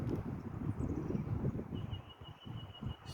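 Strong wind after a night of rain, a low buffeting rush hitting the microphone in uneven gusts, steady and close throughout, with a faint high tone in the background.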